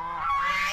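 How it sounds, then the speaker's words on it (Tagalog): A goose gives one short, loud, nasal honk close by, with no other voices around it. "Sa ngayon po, pag mag-ingay yung mga gansa,"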